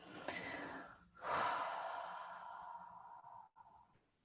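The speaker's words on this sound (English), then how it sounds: "And one last exhale." One long, slow, audible exhale close to the microphone during a group mindfulness session, starting with a soft intake and then trailing off gradually.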